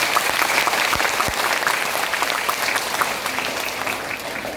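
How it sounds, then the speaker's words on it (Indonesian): An audience at an Islamic religious gathering claps for the event committee in a dense, sustained burst of applause that fades a little toward the end, with a couple of low thumps early on. "Tepuk tangan untuk panitia."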